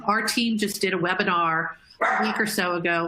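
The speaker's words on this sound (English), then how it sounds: "Apologies for the dog." A dog barks and yips repeatedly in a home office, loud and close, partly mixed with a person talking over it during an online discussion.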